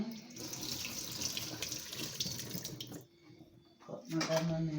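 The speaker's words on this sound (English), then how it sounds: "I'm going to wash my lemon" Tap water streams into a kitchen sink as a lemon is rinsed under it, a close steady splashing rush lasting about three seconds before it stops and a few handling clunks follow.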